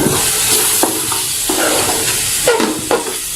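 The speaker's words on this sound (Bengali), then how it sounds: "এখানে 1 টেবিল চামচ আদা রসুন বাটা দিলাম।" Ginger garlic paste fries in a hot pan for a raw mango and boal fish curry: a steady bright sizzle with several scraping strokes of a spatula, close and loud, with no voices.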